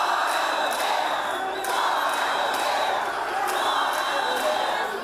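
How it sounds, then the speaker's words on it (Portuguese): Municipal workers in the galleries of a city council chamber booing and shouting in protest, a loud continuous crowd roar with surging jeers and whistles throughout. "Nas galerias, os protestos contra as medidas vinham com cartazes e muitas vaias à administração"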